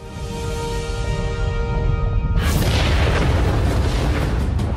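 Massive volcanic eruption blast: a deep, sustained boom that swells into a loud, roaring rumble with crackling bursts, building and holding at full force.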